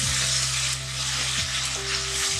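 Garlic paste hits golden fried onions in a pan for mash ki daal, giving a loud, close, continuous sizzle with a low steady hum underneath and no talking.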